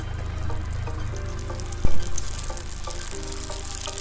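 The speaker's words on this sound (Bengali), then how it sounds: "প্রচণ্ড তেলটা গরম হয়ে গেছে, আমি একদম লাল লাল করে ফুচকাগুলো ভেজে দিচ্ছি।" Fuchka puffs frying in very hot mustard oil, a steady crackling sizzle throughout with light stirring clinks and one sharp knock midway; no voices.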